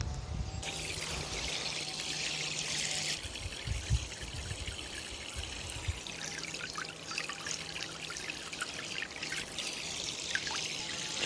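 An AUTOPkio portable battery camping shower pump runs in a tub of water, pushing out a steady pouring trickle that splashes continuously, close and fairly loud, with a faint motor hum underneath.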